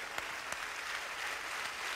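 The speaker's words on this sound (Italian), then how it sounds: "vi ringrazio per l'applauso" An audience applauds at a televised special celebrating Sampdoria's first Italian football championship, a dense, steady wash of many hands clapping with a few sharper individual claps standing out, heard alone without speech.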